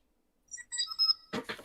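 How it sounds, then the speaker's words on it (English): A contestant's buzzer in an online game show plays as a short bright electronic jingle of several tones, then gives way to a few muffled rustling thumps. "So my buzzer is"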